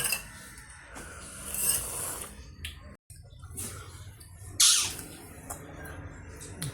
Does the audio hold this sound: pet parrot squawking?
yes